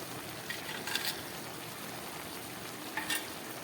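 Vegetable curry with fried eggplant and greens sizzles and bubbles softly in a pan, a quiet steady hiss broken by a couple of brief stirring scrapes.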